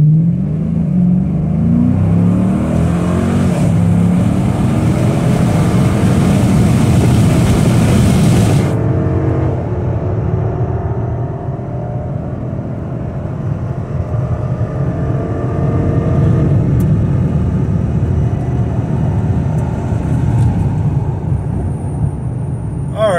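Dodge Charger R/T on the road, given a brief pull: a loud, close engine roar builds and holds with rising and falling pitch, with strong wind and road noise inside the car, then eases to a steadier drone.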